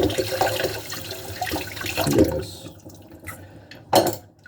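Water runs and splashes as soapy dishes are rinsed in a sink, an uneven gushing stream with louder bursts near the end and a brief spoken word.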